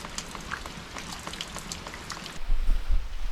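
Rain falls outside a 150-year-old storm-damaged house in the south of France, a steady close patter of drops that gives way to a louder, lower rumble near the end.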